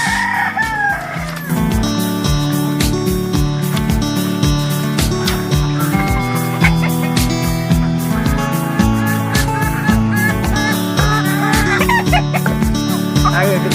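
Desi chickens and ducks on a poultry farm keep up a busy chorus of clucks and crowing, close and loud throughout, in the morning with someone talking over them.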